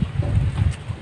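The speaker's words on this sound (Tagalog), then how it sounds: "Lakas talaga ng hangin ngayon." Strong wind ahead of a typhoon buffets the microphone in low, rumbling gusts on a mountain throughout the short moment.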